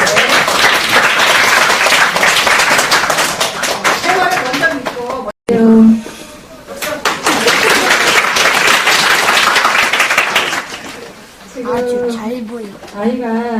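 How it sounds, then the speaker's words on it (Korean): Warm welcoming applause from a seminar audience, loud sustained clapping broken by a short pause, with a speaker's voice coming in over the claps. "자, 뜨거운 환영의 박수로."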